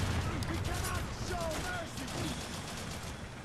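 Gunfire in the video game Haze: dense, continuous crackling shots fill the whole stretch at a steady loud level, with voices talking over the battle.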